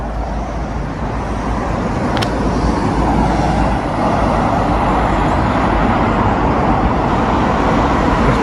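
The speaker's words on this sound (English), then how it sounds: "Sorry about the road noise, but there's nothing I can do about that." Busy road traffic beside the River Tas in Norfolk makes a steady, loud broadband roar of passing vehicles that never lets up, with no one speaking.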